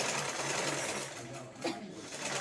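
An electric sewing machine runs steadily as it stitches a side seam on a garment, a close, continuous whirring hum with a brief dip in the middle and no speech over it.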